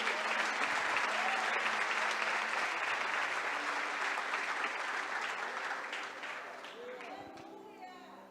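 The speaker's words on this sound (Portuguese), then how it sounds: "Pode aplaudir e glorificar o nome do Senhor." A church congregation claps together in praise, dense loud applause that holds steady, then thins and fades toward the end as voices rise through it.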